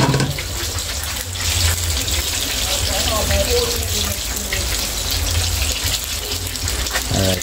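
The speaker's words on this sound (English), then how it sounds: "Just have to add a little bit more water." Water poured into a pot of steamed fish, a continuous splashing gush lasting several seconds, close and fairly loud.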